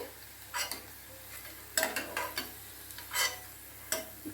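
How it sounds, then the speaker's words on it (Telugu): Bitter gourd pieces fry in a pan while being stirred, so a soft sizzle runs underneath and a utensil scrapes and clinks against the pan in brief, irregular bursts. No one talks. "రెండోసారి వేసిన కాకరకాయలు కూడా వేగిపోయాయండి"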